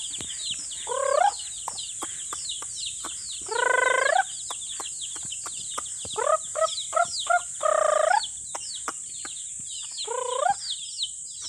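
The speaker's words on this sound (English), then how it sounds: "Oh, chicken, chicken. The hen and the chicks." A hen and her chicks cluck close by, with repeated short clucks and bursts of rising, squawky calls coming in an irregular rhythm over about eleven seconds.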